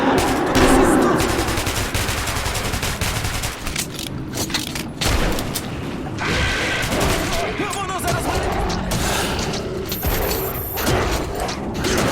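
Rapid bursts of gunfire and machine-gun fire in the video game Metro 2033 Redux, loud and close over clanking mechanisms and heavy booms, with shouted voices breaking in between volleys.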